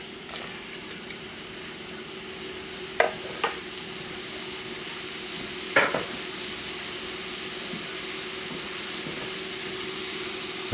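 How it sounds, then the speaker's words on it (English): Onions and cabbage sizzle steadily in a pan over a moderate-to-high flame, a soft continuous hiss with a few sharp clicks of stirring utensils against the pan. "you can hear that sizzling"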